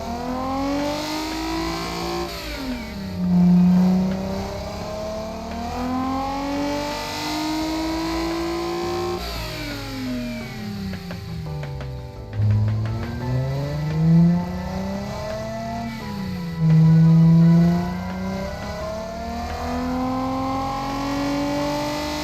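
A twin-charged sports car engine from the game Automation revs repeatedly, its pitch sweeping up and down in several smooth rises and falls with a whirring tone, alone and clear.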